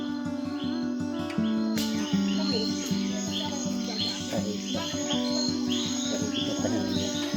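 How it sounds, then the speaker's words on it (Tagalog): An unidentified bird calling on a mountain, giving a repeated series of short, evenly spaced chirping notes that stay close and clear against quiet surroundings, with insect-like trills mixed in. "May nakuhanan pa kaming magandang ibon at hindi kami pamilyar kung anong klase ito"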